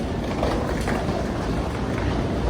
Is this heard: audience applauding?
no